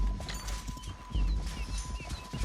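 Horse hooves clip-clopping in Red Dead Redemption 2, a steady run of close hoofbeats over a low rumble, with a faint tonal hum and a brief whinny-like sound in the mix.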